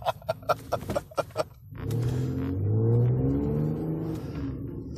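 A car with a 3.5 Duratec engine accelerating hard at wide open throttle, a deep exhaust rumble rising and holding steady after a few sharp clicks, heard close and loud.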